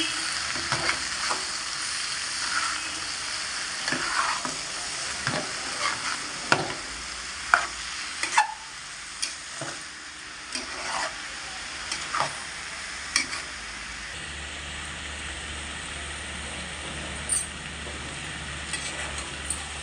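Sweet potato leaf curry is stirred and frying in a pan after salt goes in, with a soft steady sizzle broken by repeated scraping and clinking spoon strokes, close and fairly quiet.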